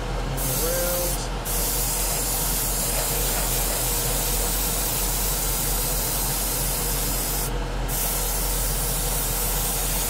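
A steady, loud hiss from a spray gun spraying paint onto a canopy runs continuously throughout, with a few brief pauses in the high-end rush; no one speaks.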